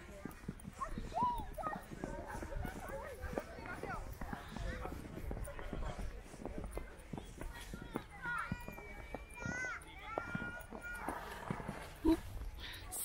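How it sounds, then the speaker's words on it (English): Three dogs chase each other around in the snow in a park, with panting, scuffling and occasional whimpers and yelps over a steady busy outdoor background throughout. "three doggies chasing around in the snow"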